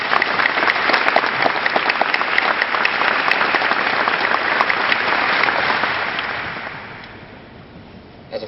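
Sustained applause from a large audience at a law school commencement ceremony, dense and loud for several seconds before tapering off into a quieter, scattered patter near the end.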